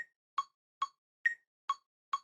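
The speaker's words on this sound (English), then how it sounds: "With a metronome, that would sound like" Metronome clicking the beat: six evenly spaced sharp clicks, close and clean against silence, with a slightly different accented click on the first and fourth.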